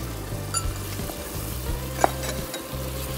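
Chopped ginger and onion frying in hot oil while being stirred, a continuous close sizzle with scraping of a utensil against the pan and a brief clink.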